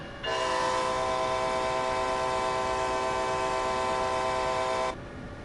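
A loud, sustained train horn blast in Train Sim World on the Northeast Corridor, lasting about four and a half seconds over steady rumbling rail noise as the train passes through a station at full speed, then cutting off.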